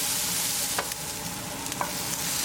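Tindora (ivy gourd) being stirred in a pan over medium gas, a steady close frying sizzle with a couple of soft spoon scrapes against the pan, no voices.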